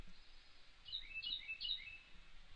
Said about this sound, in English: I'm going to shoot that bird, I swear to God.